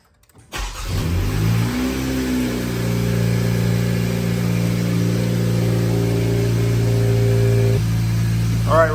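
An Acura Integra engine cranks and catches near the start, then settles into a steady, close idle during a front pipe install. The engine runs loud and even, with a brief shift in tone near the end.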